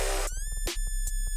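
A squeaky, bright Serum wavetable synthesizer tone set an octave up, with sustained high harmonics, pulsing in quick rhythmic chops, played alone and fairly loud.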